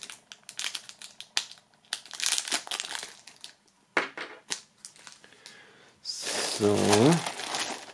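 Items wrapped in plastic foil are unpacked from a box, with crinkling and rustling in bursts and a loud, sustained crumpling near the end, as someone speaks over the first part.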